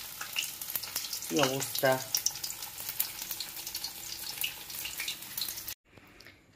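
Fish frying in hot oil, a steady close sizzle and crackle running throughout, with a brief voice speaking over it partway through before the sound cuts off.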